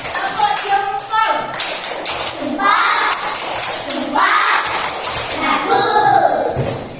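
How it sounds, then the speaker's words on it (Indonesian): Elementary school children in a classroom perform a clapping routine, with rhythmic bursts of taps and claps interleaved with chanting children's voices. "Tepuk jempol."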